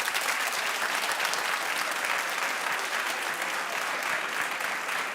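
Studio audience applause on a daytime talk show, a steady, full wash of clapping that holds at an even level throughout without pause.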